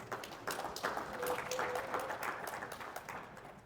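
A crowd at a real estate investing convention talk gives a round of applause, a soft distant wash of clapping that swells and then fades, with faint voices mixed in.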